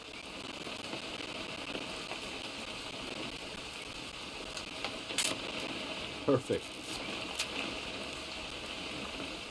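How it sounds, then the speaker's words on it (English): Steady rain falls in What Remains of Edith Finch, an even hiss throughout with a few sharper clicks and taps midway, while voices speak briefly over it. "It's gonna rain the whole weekend, isn't it?"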